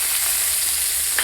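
Onions frying in a little oil in a pan, a dense steady hiss of sizzling heard up close, with a single faint clink near the end and no talking.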